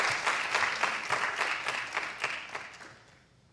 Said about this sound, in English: Can you give them a round of applause that is like a stadium full of people?